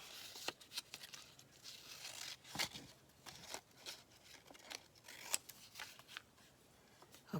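Scissors snipping through decorative paper during card-holder and journal crafting, a run of short crisp cuts and rustles, soft and close, with no voices.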